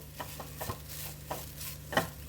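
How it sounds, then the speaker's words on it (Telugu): Grated fresh coconut fries over a low flame while a spoon stirs it through the pan, giving soft scrapes and light clinks at an irregular pace over a faint steady sizzle, close and quiet with no one talking. "ఇప్పుడు స్టవ్ని లో ఫ్లేమ్లో అడ్జస్ట్ చేసుకొని ఇలా యాడ్ చేసుకున్న కొబ్బరి మనకి బాగా ఫ్రై అయ్యి మంచి ఫ్లేవర్తో పొడిపొడిగా అయ్యేంత వరకు ఫ్రై చేసేసుకోండి"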